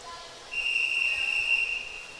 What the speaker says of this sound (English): Whistle is sounded.